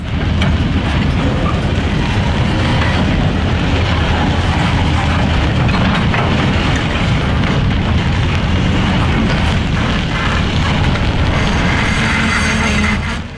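A train hauled by two 1950s GP9 diesel locomotives rumbles loudly and steadily close by, a continuous heavy roar with no talk.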